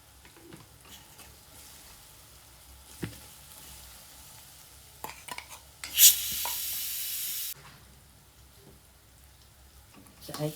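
Potato sabzi spices frying in a pan, with a loud sizzling burst around the middle that fades back to quieter kitchen sounds, faint stirring and occasional clinks around it.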